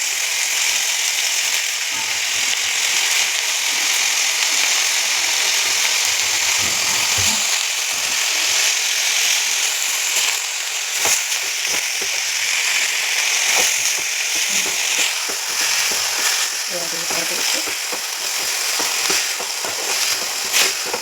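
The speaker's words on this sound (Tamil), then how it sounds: "இப்போது கழுவி வச்ச கீரையை நீங்கள் வைக்கிறீங்க." Washed leafy greens fry in a pan, giving a loud, continuous hiss and crackle with scraping stirs and clatter scattered throughout, and no voices.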